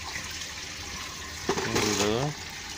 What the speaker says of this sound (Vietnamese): đổ ra rồi tiếp tục cho nước vào tiếp,